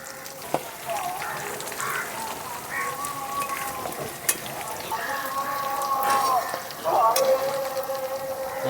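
Fish cutlets frying in a pan, a soft continuous sizzle and crackle with a few sharp pops and rising spatter after they are flipped.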